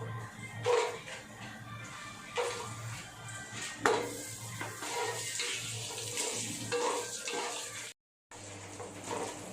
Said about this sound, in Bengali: আমি 2 থেকে 3 সেকেন্ডের মতন কাজুটা একটুখানি টস করে নিয়ে তার মধ্যে আমি কিশমিশটা দিয়ে দেবো